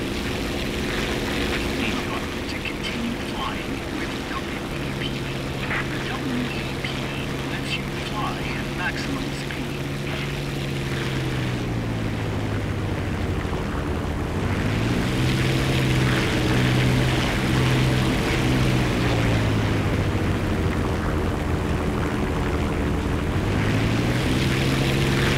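A propeller aircraft engine in the War Thunder video game drones steadily and loudly throughout, its pitch rising and falling as the throttle shifts, and a person talks over it now and then.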